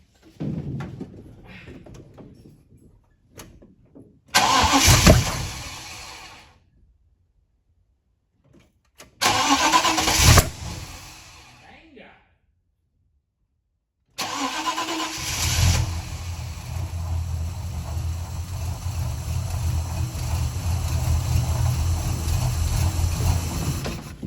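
Holden HJ Ute engine cranks in two separate bursts, each followed by a pause, then catches and settles into a steady, close idle that keeps running to the end.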